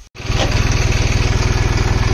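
Tractor engine pulling an 8-by-8 harrow, starting up after a brief gap and then running hard at high RPM with a loud, fast, even pulsing throb close by, with no talk.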